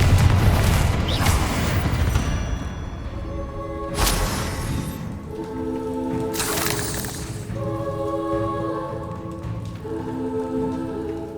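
Spell explosions from the Confringo and Incendio blasting spells in the video game Hogwarts Legacy: repeated booming bursts with crackling debris over a continuous rumbling game soundscape, with bright chiming tones sounding later.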